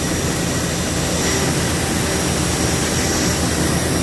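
Pixel-art spaceships in the Tiny Space Program mobile game lift off with a loud, steady roaring rumble like a jet engine, holding constant throughout without breaks.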